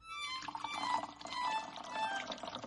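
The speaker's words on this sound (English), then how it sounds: "He got a funnel from the kitchen and started pouring ink." Ink poured through a funnel gives a continuous liquid trickle and gurgle, rising and falling slightly across a few seconds, close and moderately quiet.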